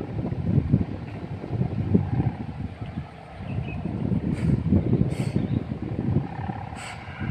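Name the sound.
strong wind while flying a kite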